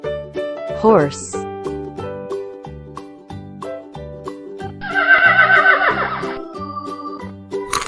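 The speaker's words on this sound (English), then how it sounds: "horse" A cartoon horse whinnies in a short, wavering call partway through, set against a bouncy children's music backing with a spoken word and a brief noisy burst later.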